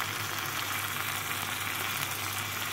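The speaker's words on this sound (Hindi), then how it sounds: "और सब ये थोड़ी देर भून के जैसे ऑयल ऊपर आएगा तो इसको बंद कर देंगे" A spice masala mixture with chaat masala roasts in oil, giving a constant, even sizzle and crackle up close with no voices.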